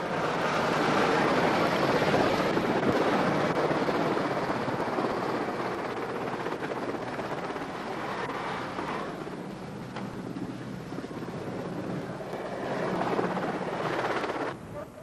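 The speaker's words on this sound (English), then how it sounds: "our guys have obviously got them to the helicopter and they're away" A rescue helicopter lifts away from a Cairngorms mountainside carrying avalanche casualties, its rotor a continuous broad roar that slowly thins as it moves off, heard alone.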